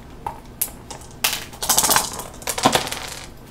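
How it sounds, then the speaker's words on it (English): Dice are rolled onto a table during a tabletop wargame, making several close bursts of clattering rattles that tumble and settle, with no talking. "they roll two dice to save against, and they fail"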